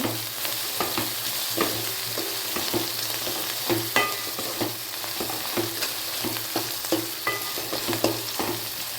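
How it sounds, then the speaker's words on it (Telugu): Ginger garlic paste frying in hot oil for Nellore chapala pulusu gives a steady close sizzle with regular stirring scrapes and light clicks of a spoon against the pan. "అల్లం వెల్లుల్లిపాయ పేస్ట్ యాడ్ చేసుకున్నామండి. పచ్చి వాసన పోయే వరకు వేసుకోవాలండి."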